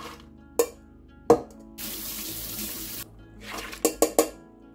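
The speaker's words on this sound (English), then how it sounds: "I'm going to fill it up with water." Tap water runs steadily into a rice cooker pot holding soaked red beans, a continuous rushing stream lasting over a second, framed by sharp clinks and knocks of the pot being handled in a kitchen, with no talking.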